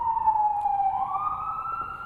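An emergency vehicle siren sounds outside a lecture hall, a steady rising and falling electronic wail that carries through the whole stretch at moderate level with no talk over it.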